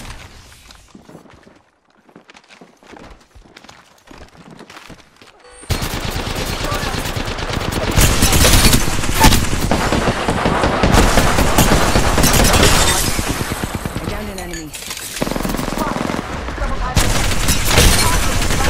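Automatic weapon fire from the video game Apex Legends, sustained loud bursts and rapid shots running through most of the stretch after a quieter opening with scattered clicks, with a brief lull near the end before the firing resumes.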